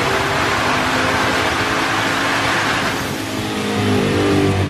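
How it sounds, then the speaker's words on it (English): A twin-turbo Camaro ZL1 strapped down on a dyno with cooling fans blowing, its engine running on wastegate boost pressure as a loud, steady roar that swells slightly toward the end. "Car's only running on wastegate pressure right now."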